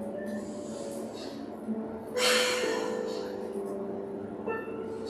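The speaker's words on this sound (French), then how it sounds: "en créant vraiment cette respiration sonore dans le fond de la gorge et en fermant la bouche pour créer le souffle Ujjayi" Audible Ujjayi yoga breathing drawn through the back of the throat with the mouth closed, a slow soft hissing inhale swelling in the middle and easing off, close and steady.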